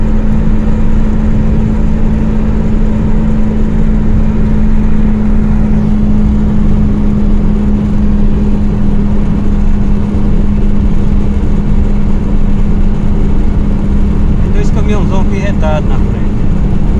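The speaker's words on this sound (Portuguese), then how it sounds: "pra você ver o roncado desse Gol" Boxy older VW Gol car engine roaring steadily at close range, a constant low drone with a strong hum running throughout, rough and loud, with a brief higher rattle near the end.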